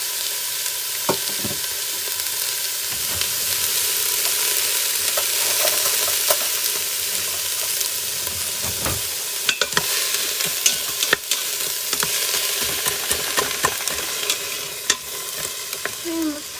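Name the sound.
frozen celery sauteing in a pan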